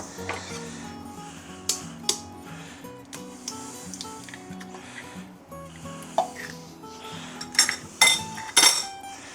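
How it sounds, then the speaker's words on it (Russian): An electric mixer beats eggs into rhubarb pie batter, giving a low motor drone under irregular clinks and scrapes of the beaters against the bowl, with several sharper knocks near the end. "И продолжаем взбивать."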